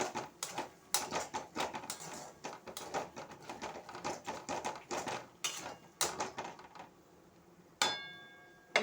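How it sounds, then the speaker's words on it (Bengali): Spice paste is stirred in a pan for a Bengali cauliflower roast: close, rapid and irregular metallic clinks and scrapes of a utensil against the pan, with short pauses and no talking. "এটা মশলাটা একটু সুন্দরভাবে কষে নেব।"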